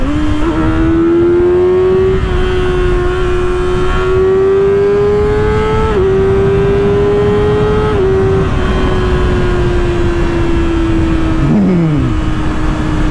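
A 2024 Kawasaki ZX-6R 636 motorcycle accelerates hard in sport mode, its engine note climbing steadily, then dropping sharply at each quick-shifter upshift before rising again. The sound is loud and continuous, with wind rush throughout and no talking.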